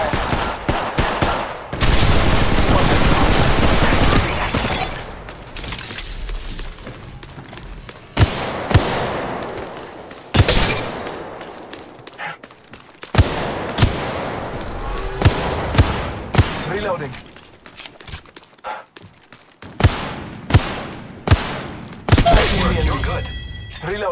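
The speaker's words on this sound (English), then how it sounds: "The enemies are shooting at me. I'm taking fire." Enemy gunfire in the battle royale game Apex Legends Mobile: dense bursts of automatic fire and sharp single shots, loud and close, starting with a sustained barrage and then coming in scattered volleys, with a voice talking over some of it.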